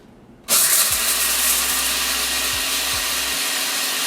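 A grinder on its grind setting blends guinea pig treat ingredients, switching on with a sudden loud, steady motor whir that holds constant for several seconds without pause.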